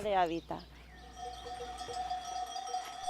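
Sheep being moved to a partner farm in northern Spain give one clear bleat at the start, followed by softer ringing tones and a faint background hum.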